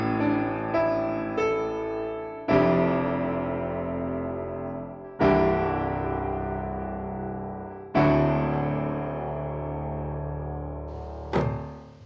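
Four sustained piano chords struck one after another, each ringing out and slowly fading before the next, with a couple of lighter notes between.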